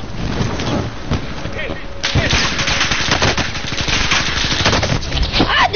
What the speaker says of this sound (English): Why they shooting me from the air?